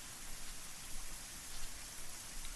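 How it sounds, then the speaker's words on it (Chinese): Light rain falls on the ground in a video game, a steady, even hiss of drops that runs unbroken from start to finish with no voices. "小雨落在地上"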